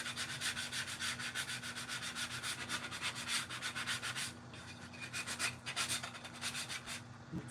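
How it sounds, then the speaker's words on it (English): Sandpaper rubs back and forth across a wooden sea turtle craft piece in fast, rhythmic close strokes, briefly easing off midway before resuming, with no voices. "And I'm just going to sand."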